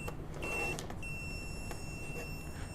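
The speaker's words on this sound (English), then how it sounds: "So we got 3 beeps and a long" EggTimer Quantum Rev B1 altimeter giving its startup tones, three short beeps followed by a long one, thin and high-pitched over a steady low room hum.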